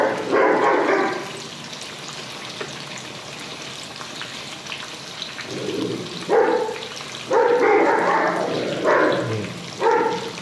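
Dogs fighting outside break into bursts of barking at intervals, somewhat distant, over a soft steady sizzle of green chilies frying in oil in the kitchen.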